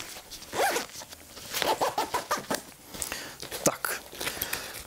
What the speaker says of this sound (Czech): Uvnitř najdeme ještě malou síťovanou kapsu zapínanou na zip.